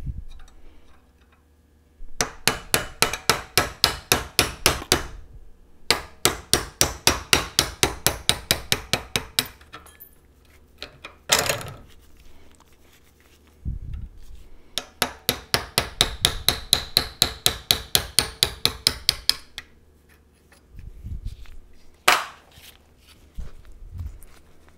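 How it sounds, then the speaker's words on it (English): A hammer strikes a punch to drive dowel pins out of a part held in a vise grip, landing rapid bursts of sharp metallic taps in quick runs of a dozen or more, separated by short pauses and a few single heavier blows. "You want to punch them through."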